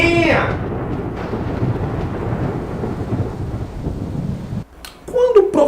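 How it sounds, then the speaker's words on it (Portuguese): Steady rain with rolling thunder, a dense continuous wash that stays loud throughout, then a short pause near the end before a voice cuts in. "Essa é uma chuvinha!"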